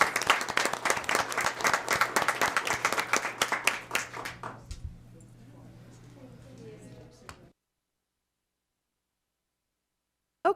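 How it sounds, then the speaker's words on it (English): An audience at a school board of trustees meeting applauds two student winners with steady, energetic clapping that gradually thins into scattered claps and then stops, leaving silence. "Round of applause."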